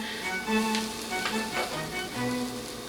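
Tortillas crisping in hot oil in a pan: a steady, dense sizzle and crackle of frying, fairly loud and continuous, with faint stirring noises and no talking.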